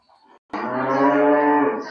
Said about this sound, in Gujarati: કેટલી બધી ગાયો છે